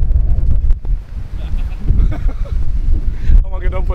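Strong wind at a beach in Cape Town buffets the microphone in loud, rumbling gusts, with voices talking over it.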